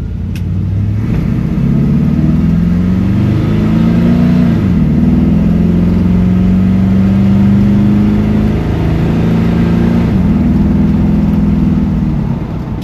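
A 1970 Chevrolet C10 short-wheelbase pickup truck drives along, its engine droning loud and steady from inside the cab, with pitch rising and dipping as the truck shifts gears and accelerates.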